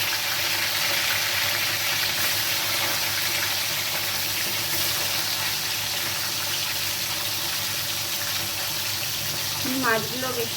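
Katla fish frying in hot oil in a kadai wok, giving a steady, loud, close hiss of sizzling that holds evenly throughout, with a brief faint voice near the end.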